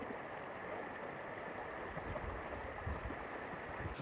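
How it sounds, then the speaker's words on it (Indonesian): A river in Kaliurang flowing over piled stones: a steady, broad rushing and gurgling of water, moderately close and unbroken, with no talk. "Nah, depanku ini ada sungai ini, dan lucunya banyak tumpukan batu."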